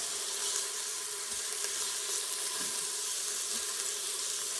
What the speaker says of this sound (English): Kind of like I'm doing a quick stir fry here.